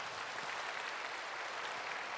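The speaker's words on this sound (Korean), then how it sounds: "우리 하나님께 감사의 박수 드리도록 하겠습니다." A congregation at a young adults' church worship service claps, producing a brief, even wash of applause at moderate distance with no pauses.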